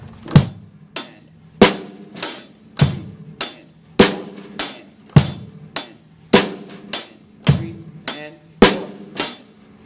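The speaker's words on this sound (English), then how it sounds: "That's our very first rock pattern" A drum kit plays a basic rock beat, with bass drum on beats one and three under hi-hat and snare. Sharp, evenly spaced hits repeat at a steady tempo, close and loud, with no talking.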